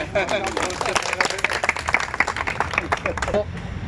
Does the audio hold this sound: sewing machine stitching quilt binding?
no